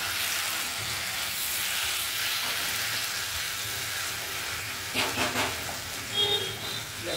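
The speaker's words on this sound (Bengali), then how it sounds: "এই দেখুন চাটা দিয়ে তেল দিয়ে মিক্স করছে" Bhetki fish bones and head sizzle loudly in oil as a spatula mixes the chochori. A dense, steady frying hiss carries a few clinking scrapes of the spatula toward the end.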